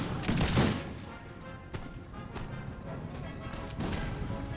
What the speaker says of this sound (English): here comes some of those cannon shots, and I swear, yes, they're coming like right through the wall